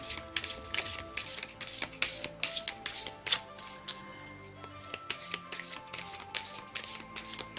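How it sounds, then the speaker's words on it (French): Oracle card deck being handled as a card is drawn, with rapid papery riffles and flicks repeating close and soft throughout, no speech. "je vais tirer une carte ici pour accompagner le rejet"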